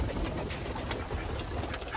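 Pigeons coo softly and repeatedly against steady outdoor background noise, with no voices.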